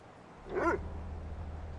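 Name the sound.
dog barking in a video game, The Killing Stone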